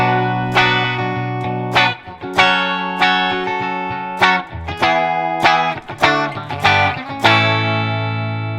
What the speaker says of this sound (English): let's listen to what that sounds like when I add this kind of circle of fourths and fifths idea into the chord progression